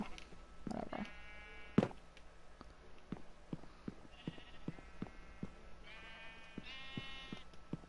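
Sheep bleat in a video game, several separate wavering calls spread across the stretch over quiet footsteps, with brief voices now and then.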